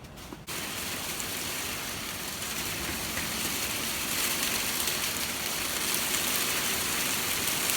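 Hail falls outdoors as a dense, steady broadband rush that starts abruptly and continues evenly for several seconds, with no voices.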